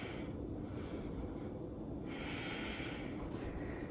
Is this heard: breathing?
yes